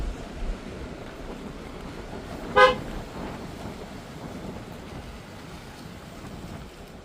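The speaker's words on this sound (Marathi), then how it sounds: "हॉर्न देऊन पण काय घेत नाही विचार करतो." A single short car horn toot sounds about midway through, over a steady rumble of traffic and wind on the Devgad–Kunkeshwar coastal road.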